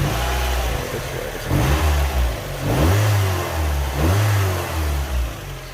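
A Mazda MX-5 engine is revved repeatedly, three or four rising bursts swelling over a rough idle, loud and close with no voices.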